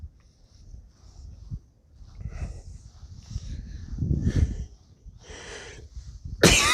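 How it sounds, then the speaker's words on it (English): Several faint coughs and throat-clearing sounds come in separate bursts from someone who has just eaten breakfast, with quiet gaps between them. "Sorry if I cough and it annoys you."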